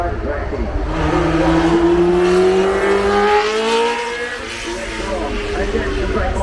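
The Lotus 79 Formula One car, driven by Mario Andretti, climbs the Goodwood hill, its engine rising in a loud revving whine that sweeps upward in pitch, then eases and holds. A commentator talks over it.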